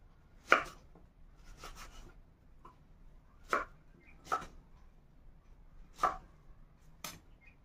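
Jackfruit is chopped into pieces with a knife on a board in about six sharp, separate cuts at an uneven pace, close and fairly faint against a quiet background.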